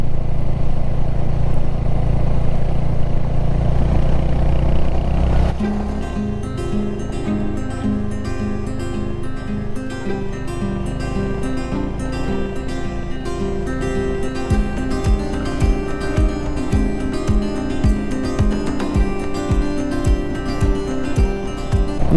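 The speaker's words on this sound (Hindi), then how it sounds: "ये देखो खाली बाइक कैसे चलती है" Rented motorcycle ridden on a broken, rough mountain road toward Pangong Lake in Ladakh, its engine droning steadily and close throughout, with rattling thumps and clatter from the bumpy surface growing more pronounced in the second half.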